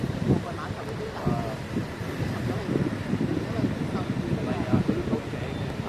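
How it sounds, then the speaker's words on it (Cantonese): Strong gusty wind buffets the microphone over a low rumble of ocean surf on the beach at the Cape of Good Hope, South Africa, with faint voices murmuring beneath. "啲風浪幾大"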